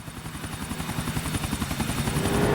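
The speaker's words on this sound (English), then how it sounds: "now we're piloting a helicopter" A helicopter in Grand Theft Auto IV flies with a steady rapid rotor thump and turbine whine, loud and continuous, swelling slightly louder toward the end, no talking.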